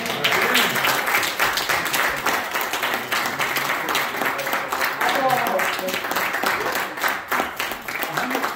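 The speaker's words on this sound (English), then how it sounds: "Give the Lord a hand clap of praise" Church congregation clapping in praise, a dense, steady wash of hand claps filling the room for several seconds, with voices calling out and talking over it throughout.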